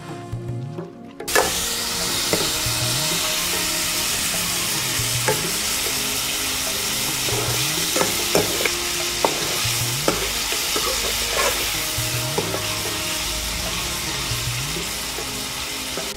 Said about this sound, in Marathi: 3 पळी तेलात कोळंबी वाफलून घ्यायची।